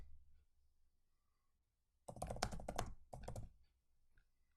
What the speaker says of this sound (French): Ici, je vais taper générateur de processus.